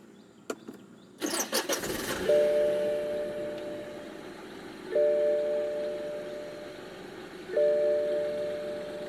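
A 2016 BMW 118i Sport Line five-door hatchback started with the push button: a short starter whir catches into a quiet idle, with a soft warning chime repeating three times.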